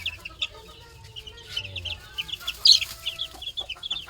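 Hens with newly hatched chicks make high, rapid peeping that runs throughout, mixed with low clucks and a brief louder squawk partway in, close by in a farmyard setting.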